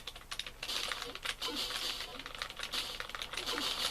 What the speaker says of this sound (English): he's throwing a grenade at me. But it sounded like he was hitting a typewriter.